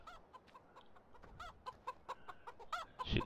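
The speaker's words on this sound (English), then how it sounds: "Chickens in here," Chickens in a farm rearing shed cluck in a steady run of short, close calls, several birds overlapping, with a louder squawk near the end.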